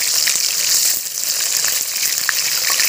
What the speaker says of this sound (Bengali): অল্প অল্প করে মাছ দিয়ে ভেজে নেব